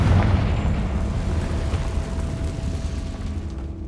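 A Confringo fire spell explodes in Hogwarts Legacy, giving a loud, dense low rumbling blast that rolls on steadily without clear separate hits, alone with no voices.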